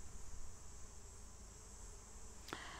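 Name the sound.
bees buzzing around lavender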